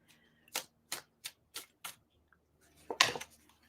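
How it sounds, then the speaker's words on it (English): A deck of tarot cards is shuffled up close, with about six quick, crisp riffling bursts evenly spaced, then a louder final flurry, and no talking. "I'm just giving my cards a shuffle while we wait for a few people to pop in."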